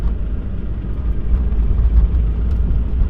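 A Mitsubishi Evo 9 engine idles steadily with noisy lifters, a low continuous rumble with faint ticking texture, close and fairly loud with no talk over it.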